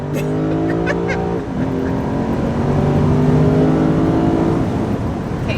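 A 472-horsepower sports car engine roars and climbs in pitch, briefly dropping at a gear shift before surging upward again, loud and close.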